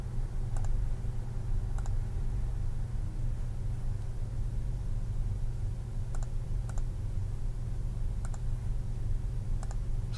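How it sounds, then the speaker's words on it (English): Mouse clicks land in sparse pairs while modeling in Revit architecture software, small sharp ticks over a constant low hum of room or computer noise, quiet and close with no talking. "I'm going to click on these edges."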